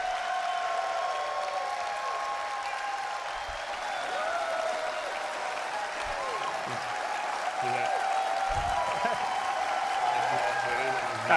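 Sustained standing applause from a large audience at CitizenCon 2953, steady clapping throughout with crowd murmur and a few voices mixed in, growing slightly louder toward the end.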